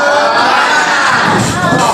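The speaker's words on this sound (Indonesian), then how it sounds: "coba kita tepuk semangat" A classroom group performs a loud, close 'tepuk semangat' clapping cheer, with rapid rhythmic claps blended with children's shouting voices in one short energetic burst.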